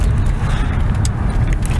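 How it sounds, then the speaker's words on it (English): A Mercedes C63 AMG 507 Edition engine downshifting gives a loud, close, steady low rumble with a brief sharper burst about midway, and no voices over it. "the downshifts are just phenomenal in this car"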